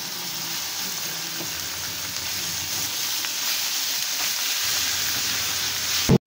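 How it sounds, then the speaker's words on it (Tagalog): Ground pork sautéing with garlic and onion in a hot pan, a steady close sizzle and crackle that holds evenly throughout, ending in a sudden clunk. "At i-igisa na natin yung ating ground pork"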